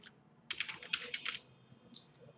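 Keystrokes on a computer keyboard while code is written in a Jupyter Notebook, a quick burst of clustered clicks followed by a pause and a couple more taps, close and fairly quiet with no talking.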